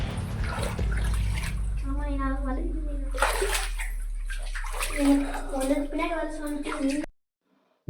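Feet splash and slosh through knee-deep water inside the Ravvalakonda cave in Andhra Pradesh, a continuous close churning that echoes as someone talks over it, then cuts to silence.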